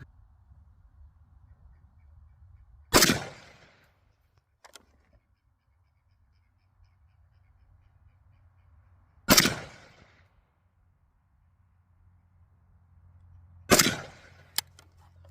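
Three loud, sharp rifle shots from an AK-pattern rifle fitted with an optic mount, spaced several seconds apart outdoors, each with a short decaying tail and a faint later crack, over a low background hum.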